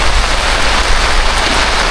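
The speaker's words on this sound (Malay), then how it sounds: "Hujan. Hujan." Heavy rain falling on a campsite, a loud, dense and continuous wash of drops hitting surfaces close by, with no voices over it.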